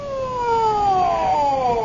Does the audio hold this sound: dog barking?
no